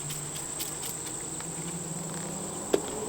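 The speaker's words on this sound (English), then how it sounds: "Lots of bees up here." Honeybees at an open hive produce a steady, soft buzzing hum with a few nearer individual bees passing, and a single small tap near the end, with no talking.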